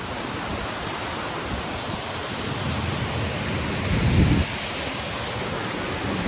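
Jujjar waterfall in Karsog Valley, Himachal Pradesh, pours with a loud, unbroken broadband roar. A brief deeper surge comes near the end, and no one talks.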